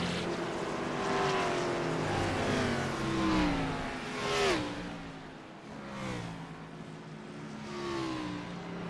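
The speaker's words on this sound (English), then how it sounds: "Somebody coming down the pit lane." A race car in a Kansas racing league comes down the pit lane, its engine note sweeping up and down through repeated revs as other engines drone behind it, loud and close with no voices.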